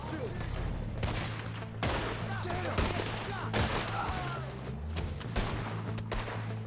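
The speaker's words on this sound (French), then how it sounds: "Il tire encore au sol, ce con." Gunfire rings out in Red Dead Redemption 2, a series of sharp shots and volleys spaced across several seconds over a low background drone.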